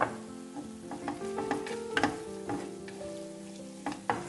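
An eggplant and kashk dish is stirred in a pan, with soft sizzling and scraping, clattering stirs that come in irregular strokes, close up and with no talking.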